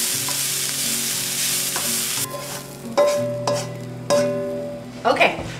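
Shredded cabbage sizzles loudly in a hot pan with tofu and vegetables, a bright hiss broken by clanks and scrapes of stirring.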